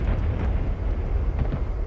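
An explosion in Duke Nukem 64, a heavy, low rumbling blast that fills the whole moment with dense roaring noise, loud and sustained without talk.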